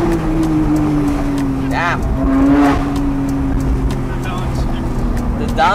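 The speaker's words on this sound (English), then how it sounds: "downshift sound." A Porsche 992 GT3 engine roars loudly up close, its pitch sweeping as it downshifts with sharp rising blips, over a steady droning tone and a voice heard briefly in the background.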